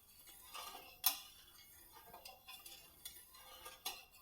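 A spoon stirs sugar into water in a pot, giving quiet intermittent clinks and scrapes against the metal, with one sharper tap, all faint and close, with no talking.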